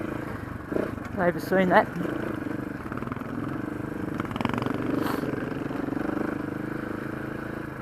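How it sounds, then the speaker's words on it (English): A motorcycle approaching from the opposite direction on rocky trail terrain passes by with a short rising engine note, heard over the rider's own steady KTM 690 or Husky 701 engine drone and his talking. "We've got a bike coming the other way."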